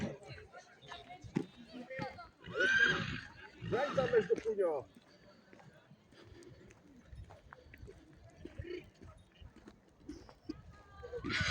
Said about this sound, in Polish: Jest koń. Jest koń.